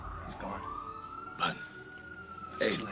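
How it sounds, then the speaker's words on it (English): An ambulance siren sounds in a dramatic scene, a sustained wailing tone that rises slightly and holds beneath brief, tense spoken lines, moderately distant. "That's the ambulance."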